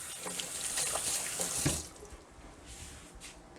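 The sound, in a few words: washing hands under a running tap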